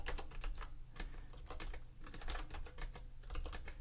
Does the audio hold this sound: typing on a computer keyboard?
yes